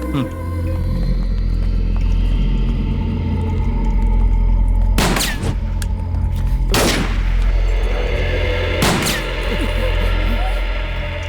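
Three loud gunshots crack out at irregular intervals over a constant low rumble, each blast sharp and close.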